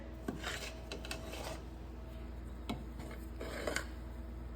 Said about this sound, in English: I'm incorporating that browned butter into the mixture.